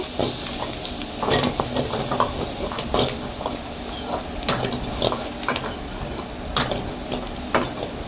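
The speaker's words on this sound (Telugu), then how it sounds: "జీడిపప్పు వేసాక కూడా బాగా ఫ్రై అవ్వనివ్వాలి" Onions, green chillies, curry leaves and cashews fry together in a pan, a close, steady sizzle punctuated by frequent spatula scrapes and clinks against the metal as they are stirred.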